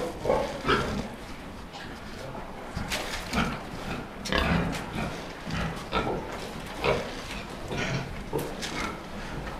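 Large fast-growing farm pigs grunt and snort continuously at close range, a busy overlapping chorus of rough, irregular grunts with some squeals from several animals in a pen.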